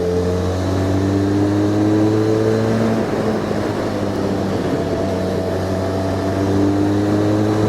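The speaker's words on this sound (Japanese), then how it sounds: "こうして回すとやはり3気筒エンジンにフィーリングが近くなってきます。" A Harley-Davidson X500 with a 500cc 360-degree-crank engine revs up and holds high revs, the pitch rising and settling in a loud, continuous drone.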